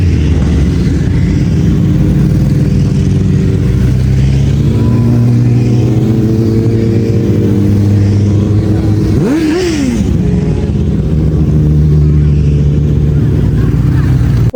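Motorcycles racing on the Imatra road circuit in Finland, a loud, steady engine drone close by, with one machine revving up and roaring past midway before the sustained engine noise carries on.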